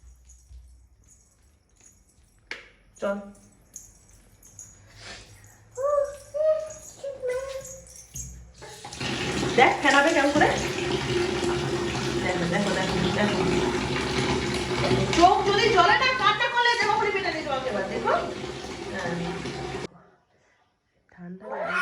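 A tap runs steadily into a bathroom basin or tub while a pet cat is bathed with shampoo. The flow is loud and close for about ten seconds, with brief animal whimpers and a person talking before and during it.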